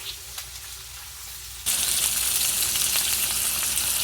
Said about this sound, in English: And now while this is sauteing, you can go ahead.